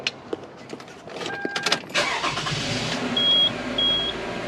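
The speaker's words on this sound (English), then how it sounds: "I'm going to start up the vehicle" A 2011 Toyota Sienna minivan starts up in a garage during brake work: clicks and rustles, then the starter cranks and the engine catches into a steady idle, close and fairly loud, with faint chime beeps.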